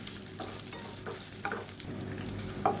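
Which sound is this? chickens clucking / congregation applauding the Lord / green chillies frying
green chillies frying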